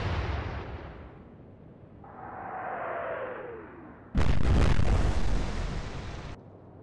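A warship's main gun fires in the Atlantic Fleet naval video game: a low rumble and a rising whistle of the incoming shell, then a sudden loud, sustained blast of the hit that cuts off sharply. No one speaks.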